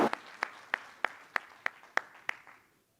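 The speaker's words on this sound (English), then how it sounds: "Round of applause." Brief applause at a conference session: about nine crisp, evenly spaced claps that taper off and fade to silence within three seconds.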